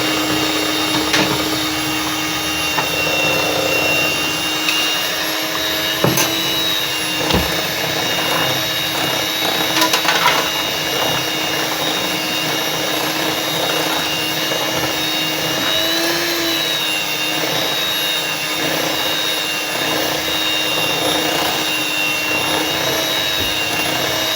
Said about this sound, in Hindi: अभी भी इसमें लम्स हैं तो मैं इसको फिर एक मरतबा फिर ग्राइंड कर लूँगी। बीटर से बीट कर लूँगी